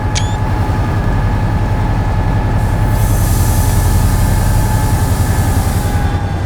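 Locomotive-hauled train running on a long elevated track, a loud steady rumble of wheels and engine heard close from on board, with a faint high squeal near the start.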